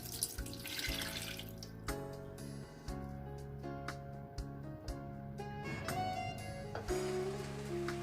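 Water pours into a cooking pot for dal with turmeric, a close splashing stream broken by a few short stops and restarts, with no talking.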